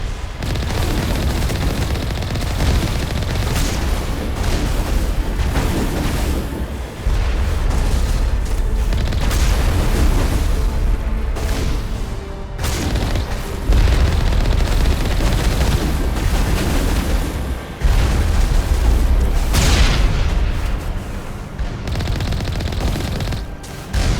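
Heavy, continuous booms and blasts in Mass Effect Legendary Edition, rocket explosions and gunfire layered into a loud, dense barrage with a few brief dips before the roar resumes.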